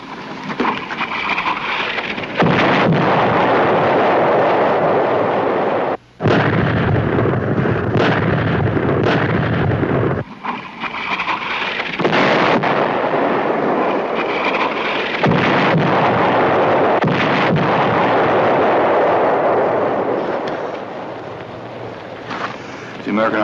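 American artillery barrage in the 1963 war series Combat, a long loud roar of rumbling explosions and blasts with a couple of abrupt cuts, with voices of soldiers talking over the din.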